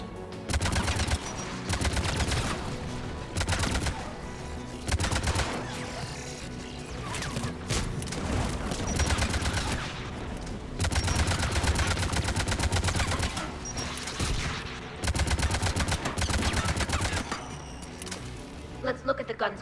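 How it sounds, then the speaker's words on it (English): AA guns in Mass Effect 3 fire in sustained, rapid bursts of heavy automatic shots, loud and repeating in clusters with short gaps, while voices speak over the gunfire. "AA guns ahead of us."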